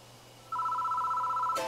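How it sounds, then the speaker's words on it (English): An old telephone in the horror video game Death Mark starts ringing: a steady electronic bell tone begins suddenly and holds clear and loud over a low background hum, then is cut off. "The phone starts ringing out of nowhere."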